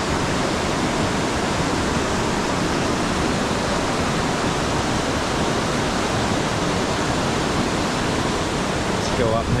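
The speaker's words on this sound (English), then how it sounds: "Check that out, there's a waterfall there" Waterfall at Phu Ruea in Thailand pours as a steady, dense roar of rushing water, loud and close, continuous throughout without pause.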